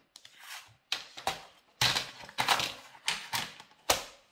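Repeated scraping strokes of a tool scoring fold lines into scrapbooking paper, about seven short rasping passes in a quick uneven rhythm, close and clear with no talk.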